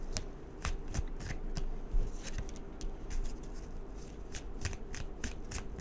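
Tarot cards are shuffled by hand at close range, giving repeated crisp riffling flutters and soft patting taps in quick, irregular bursts.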